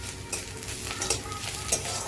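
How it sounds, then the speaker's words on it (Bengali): Onions frying and being stirred in a hot pan for a Bengali fish curry with whole potatoes and pointed gourd, a steady close sizzle with scraping stir strokes near 0.3, 1.1 and 1.7 seconds. "পেঁয়াজ ভাজা হয়ে গেছে,"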